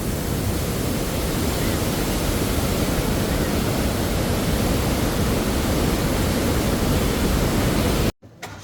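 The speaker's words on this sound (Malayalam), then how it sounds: "ഷട്ടർ പൊക്കി വെച്ചേക്കാണ് ഒരെണ്ണം അപ്പുറത്ത് വേറെ രണ്ടെണ്ണം കൂടി പൊക്കിയിട്ടുണ്ട് ഇതേപോലെ തന്നെ പൊക്കി വെച്ചേക്കാണ് തൊട്ടപ്പുറം വെള്ളം ഒഴുകി വരുന്നത് കാണാം" Water gushing through raised shutters of a dam in a forest setting, a loud continuous broadband roar close by that cuts off abruptly near the end.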